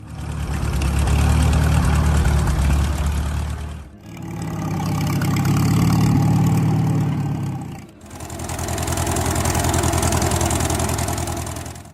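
A McCormick W4 Standard tractor from the 1940s idles with a steady, loud low-pitched engine rumble, heard in three continuous stretches with brief dips between them and no talking.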